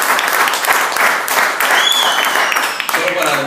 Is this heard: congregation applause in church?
yes